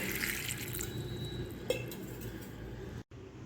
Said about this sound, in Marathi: या शेंगा मी आता दोन वेळा स्वच्छ पाण्याने धुवून घेत आहे